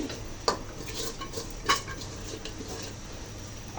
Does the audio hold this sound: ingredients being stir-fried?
yes